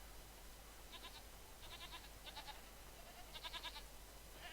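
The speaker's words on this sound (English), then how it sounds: "Lots and lots of goats." Goats bleating in the video game Jade Empire, several short quavering calls in separate bursts over a steady low background hum, faint and at mid distance.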